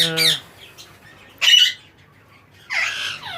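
Green ringneck parakeets in a breeding aviary let out three loud, harsh squawks spaced about a second apart, with quiet pauses between calls.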